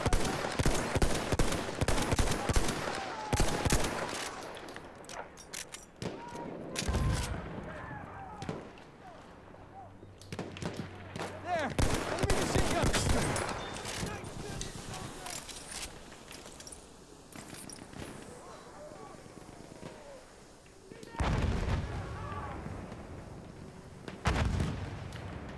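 Battlefield 1 gunfire with dense, repeated bursts of shots and heavy booms throughout, strongest at the start and in sharp late volleys, with a player talking over parts of it.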